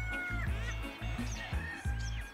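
Chickens and roosters in a large park cluck in short, repeated bursts close to the microphone, several birds overlapping in an uneven rhythm.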